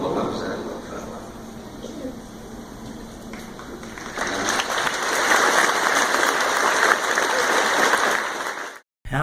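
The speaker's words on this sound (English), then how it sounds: "to hear a crowd of people clapping afterwards" A crowd at a recorded Jehovah's Witnesses congregation meeting breaks into applause, dense steady clapping that swells midway and holds loud before cutting off abruptly.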